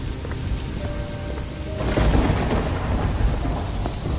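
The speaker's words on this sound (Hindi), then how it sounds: "उस भयानक बारिश वाली रात में" Heavy rain falls on a stormy night with thunder. A loud, dense downpour hisses steadily and swells into a deeper rumble about halfway through, with no voices.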